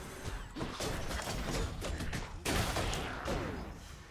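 Inferno bombers in Hades hurling bombs, with a dense barrage of sharp crackling blasts and mechanical clatter in close succession, one louder burst near the middle, with no talking.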